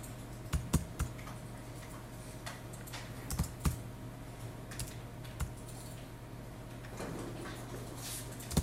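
Short bursts of keystrokes tapped on a computer keyboard while entering numeric values into software, quiet and close with irregular pauses between clusters of clicks.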